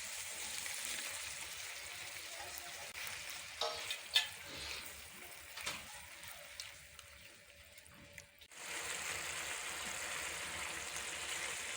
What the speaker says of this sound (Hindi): अब दही को तब तक पकाएंगे जब तक इसको उबाल नहीं आ जाता।